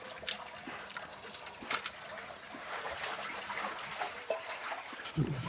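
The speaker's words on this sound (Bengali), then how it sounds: "আবার একটু জল দিয়ে ভালো করে ধুয়ে নিচ্ছি।" Water splashes and trickles as masoor lentils are rinsed by hand in a bowl, close and fairly quiet, with intermittent sloshing and dribbling throughout.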